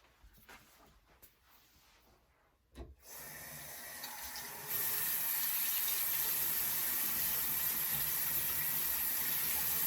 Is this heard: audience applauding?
no